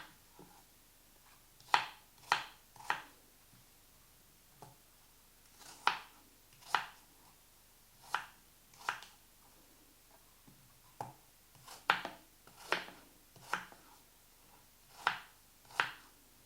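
A knife chops apples into small cubes for an apple strudel filling, the blade striking the board in short bursts of crisp, close taps separated by brief pauses, with no talking.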